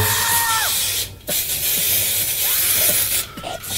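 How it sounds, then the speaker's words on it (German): A spray can spraying in short hissing bursts, a loud airy hiss broken by brief pauses, close by. "also auch nur ganz wenig davon drauf sprühen"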